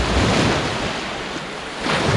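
Waves wash steadily onto Butterfly Beach in South Goa while wind buffets the microphone, a continuous broad roar of surf and gusts with swells that rise near the start and again at the end.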